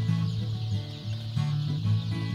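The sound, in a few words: chicks in a poultry barn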